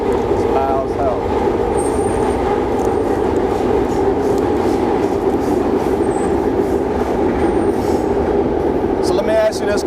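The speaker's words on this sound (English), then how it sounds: "This train go by. It's loud as hell." A loud, steady rumble of a train passing close by fills the whole stretch, with faint metallic squeals over it and some voices mixed into the roar.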